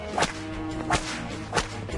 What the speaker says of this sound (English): Adam whips it good,